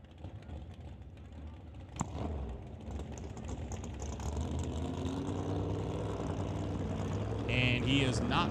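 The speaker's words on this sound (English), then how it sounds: "It sounds like the car has gotten reignited." A drag racing car's engine reignites on the starting line at a door-car drag racing event, a rising engine roar growing louder under announcer commentary with a brief bang early on.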